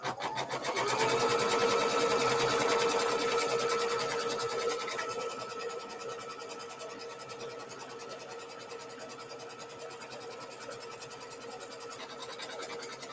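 An embroidery-style sewing machine stitches out a seam guide on a string quilt block, running in a steady rapid mechanical hum that is loudest at first, then continues slightly quieter.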